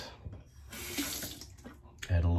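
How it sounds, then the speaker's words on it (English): Water running from a tap into a sink while shave soap is prepared for lathering, a splashing flow that swells loud and close near the end after some handling noises. "Add a little bit more water before I get going"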